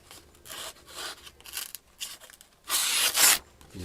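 A Rough Rider Classic Carbon Seahorse Whittler pocket knife making push cuts into wood, heard as short close scraping shavings in a few bursts with a louder, longer cut near the end.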